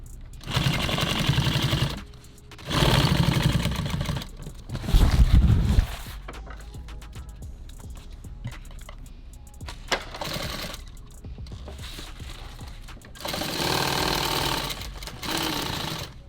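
An industrial sewing machine tacks nylon tactical gear in several loud, rapid bursts of stitching, each lasting a second or two, separated by quieter pauses filled with handling and clicking noises.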